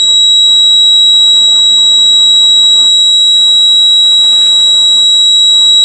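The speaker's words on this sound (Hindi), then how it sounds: "देखिए बजर घसक रहा है" A steady, high-pitched electronic alarm buzzer from a motorbike temperature sensor circuit signalling an overheated heat sink sounds continuously and loudly, holding one piercing tone without a break.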